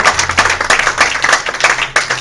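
Church congregation applauding during an evangelical sermon, a dense burst of clapping hands close and loud, with a low hum underneath and voices mixed in.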